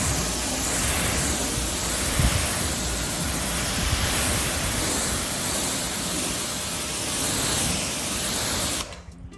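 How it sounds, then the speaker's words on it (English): Steady water spray from a hose rinsing down a car's panels during a detailing job, a continuous broadband hiss running alone without pause before cutting off abruptly near the end. "Then we're gonna hose it down."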